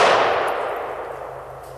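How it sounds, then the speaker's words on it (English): A single AK-47 rifle shot fired outdoors: a sharp, loud blast at the start that decays into a long, fading ring and echo lasting under two seconds. "And that's how you shoot the AK-47."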